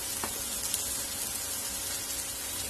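A steady, soft sizzle of onions, tomatoes and capsicum sautéing in a hot pan, with a faint occasional scrape of stirring, no voices.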